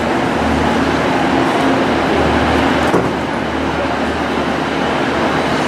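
A train pulls into a station platform on the airport line with a loud, steady rumble and broad rolling noise that holds throughout, close by, with only a faint brief thump partway through.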